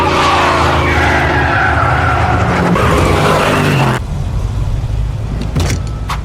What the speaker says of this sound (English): Brian immediately took to the field to test his car.